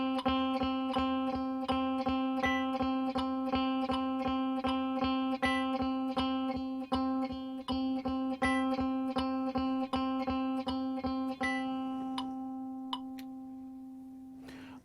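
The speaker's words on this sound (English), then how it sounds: "And those are called eighth notes, and they sound like this." Steady electronic beeps marking an eighth-note rhythm, a rapid even pulse of identical tones repeating for about twelve seconds before trailing off into a few scattered blips, clean and close with no voices.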